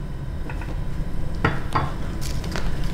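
A spoon scrapes and clinks against a pot as liquid comes to a boil for a spaghetti and meatball sauce. There are a few short metallic knocks over a steady low bubbling simmer, and no one speaks.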